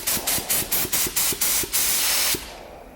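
Spray paint hisses from a slightly crooked nozzle onto cardboard during a junkyard Cadillac painting job, about eight short bursts in a steady rhythm and then one longer blast, close and loud.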